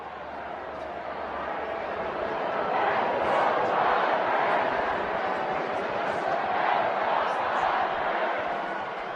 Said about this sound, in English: A lively night in front of a sellout crowd at Petco Park.